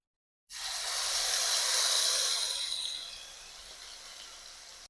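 Onion paste hitting hot oil with whole spices already fried, a loud sudden hiss and sizzle that swells for a couple of seconds, then settles into a steadier, softer frying crackle. No voices.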